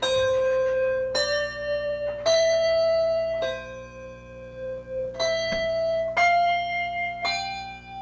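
Hand bells ring out in a steady sequence of about seven clear, bright strikes, each one sustaining and overlapping the next, loud and close with no talking.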